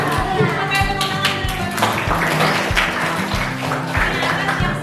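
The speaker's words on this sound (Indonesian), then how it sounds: "Pakai tepuk tangan" A class of children clapping hands in a rhythmic pattern during a classroom game, steady repeated claps with chatter and voices mixed in throughout.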